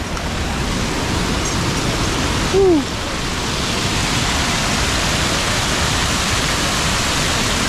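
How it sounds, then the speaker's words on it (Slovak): Waterfall in Da Lat, Vietnam, a loud, steady broadband roar of falling water throughout, with a brief faint call partway through. "Prišli sme k ďalšiemu vodopádu"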